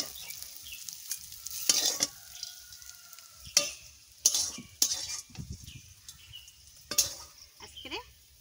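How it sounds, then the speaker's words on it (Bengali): Bitter gourd fries in a pan with a soft continuous sizzle, broken by sharp scraping stirs of a spatula against the metal at irregular intervals, close by and fairly quiet. "লাল লাল করে উস্তে ভাজা করে নিচ্ছি"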